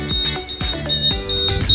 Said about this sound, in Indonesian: Dan di saat buzzer berbunyi seperti ini, kita harus menekan satu kali lagi tombol untuk mereset servo dan buzzer akan berhenti berbunyi